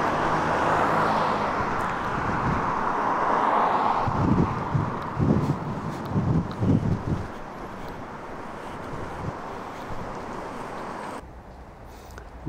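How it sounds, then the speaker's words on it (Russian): Strong wind buffets the microphone in a constant roar, with heavier gusts thumping through in the middle before it eases slightly, outdoors in Kaliningrad. "Друзья, у нас сегодня очень ветрено."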